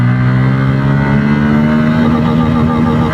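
A Bajaj Pulsar N160 motorcycle accelerating hard in a low gear, its engine droning loud and close with a steady, slightly rising tone and no talk over it.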